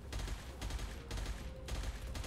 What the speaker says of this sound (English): Oh, it's a tiger cannon.